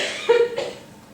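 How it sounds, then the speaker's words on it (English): A single short cough, close and fairly loud, lasting about a second during a panel discussion. "Sorry, again coughing."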